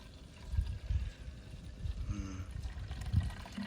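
Cleaning solution with OxyClean glugs and trickles into the tank of a Hoover SteamVac Silver carpet cleaner, with uneven low splashy pulses close by for a few seconds.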